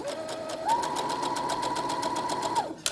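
A sewing machine stitches fabric in a fast, even run of needle clicks with a steady motor whine, close and clear, ending with a brief stop.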